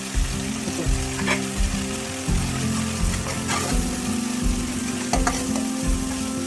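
Egg masala frying in a pan while being stirred, with a loud continuous sizzle and rhythmic scraping of a spoon, close and alone without talk.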